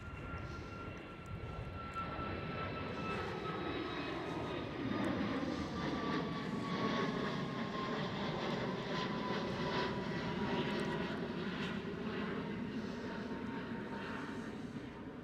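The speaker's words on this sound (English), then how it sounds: "And that's a Ryanair." A Ryanair jet airliner at Schiphol airport, Amsterdam, passes at a distance, its engine roar rising and falling with a sweeping tonal whine over about fifteen seconds.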